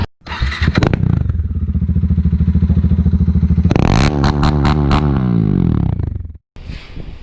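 A Suzuki V-Strom 650 motorcycle engine idling loud and close, blipped into a sharp rev burst with rattling clatter midway, then cutting off briefly before restarting.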